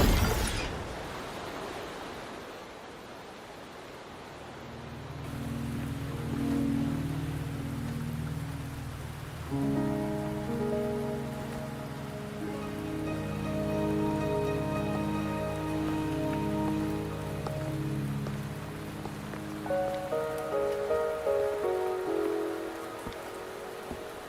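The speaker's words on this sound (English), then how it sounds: "Are you trapped here by the rain?" Steady rain in the video game Wuthering Waves pattering and hissing under soft synthesized music, with tonal layers building midway and light drops pattering throughout.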